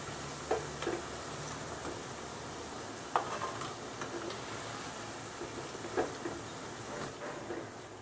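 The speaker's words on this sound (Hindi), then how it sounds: "दूसरी साइड से भी गोल्डन ब्राउन हो जाने तक तल लेंगे" Onion kofta frying in oil until golden brown, a steady low sizzle with occasional soft ticks and taps of a utensil, close and continuous, no voices.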